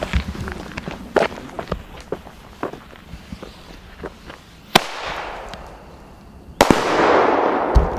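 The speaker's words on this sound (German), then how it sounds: "Hat man gut gehört wegen dem Böller da hinten" Firecrackers explode in a sharp, scattered series of close bangs and pops, with two louder blasts followed by crackling, hissy tails; footsteps shuffle in between.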